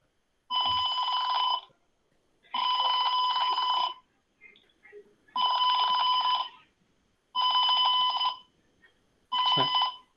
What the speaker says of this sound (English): The gas sensor reading is detected, and the buzzer will be buzzing